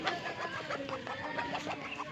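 Chinese geese, a large female with five young, honking and calling in quick, overlapping bursts, close and moderately loud, with a continuous rhythm of short calls filling the whole moment.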